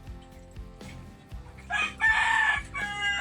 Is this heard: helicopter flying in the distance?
no